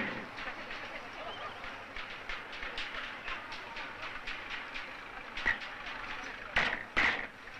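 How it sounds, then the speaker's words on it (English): A petroleum tanker train rolls along the rails with a steady rumble and repeated metallic clicks, and two louder clanks come near the end. "These trains are called petroleum dragons."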